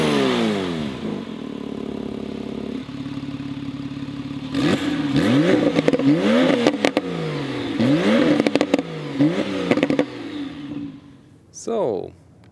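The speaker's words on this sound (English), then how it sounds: "we will, of course, listen to the sound, both without and with the extra exhaust button." A Porsche 911 Carrera 4S Cabriolet (991.2) engine idles, then revs repeatedly with sharp rising and falling exhaust bursts, loud and close, ending in a brief final rev.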